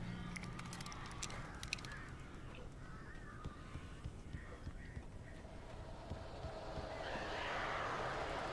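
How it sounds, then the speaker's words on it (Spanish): Crows in Alan Wake Remastered, a flock cawing and croaking at a fair distance over a rumbling ambient backdrop, with scattered calls early on and a rising wash of sound toward the end. "Santo cielo, la de cuervos que hay."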